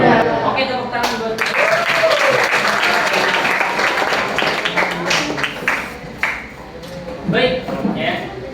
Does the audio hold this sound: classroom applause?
yes